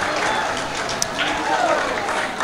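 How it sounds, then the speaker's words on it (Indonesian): Applause from an audience at the launch of an online attendance app at SMA & SMK HKBP Sibolga, brief steady clapping with a crowd murmur underneath. "Iya, tepuk tangan untuk kita semuanya"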